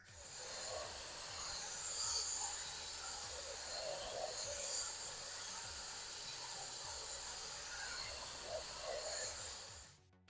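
Steady, close hiss of light blue spray paint misting onto an RC car body, running continuously for about ten seconds with a few faint clicks and handling noises underneath, no talking.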